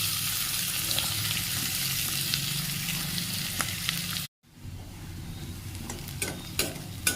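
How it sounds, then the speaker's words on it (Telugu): Onions, green chillies and curry leaves fry for a chicken curry: a constant close sizzle with the scrape of stirring, a brief silent gap midway, then frying resumes with scattered crackles. "ఉల్లిపాయ బాగా వేగింది కదండి"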